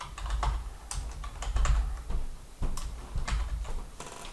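Computer keyboard typing while editing text, a rapid irregular run of close key clicks and taps with brief pauses, moderately loud and alone.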